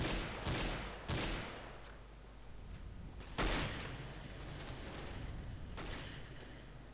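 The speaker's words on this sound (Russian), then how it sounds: "Просто из ниоткуда стрельба." Gunfire in Counter-Strike: Global Offensive, several sharp bursts of shots separated by quieter gaps, with a heavy blast-like burst in the middle, fairly distant and faint.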